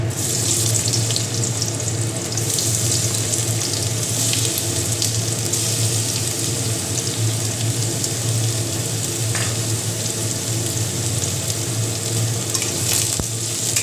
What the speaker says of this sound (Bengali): পেঁয়াজগুলোকে একটু ভাজা করে নেব